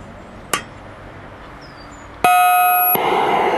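A Gauge 1 Accucraft K27 Mudhen model locomotive's sound card strikes a single ringing bell ding that sustains loudly to the end, preceded by a faint click against quiet background hiss.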